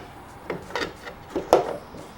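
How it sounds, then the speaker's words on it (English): Rear hub being fitted onto a Honda Ruckus scooter during a GY6 engine swap, with brake shoes already installed: a few close metallic knocks and scrapes of the hub sliding onto the axle, irregular and brief. "So we're going to start off by putting our rear hub on."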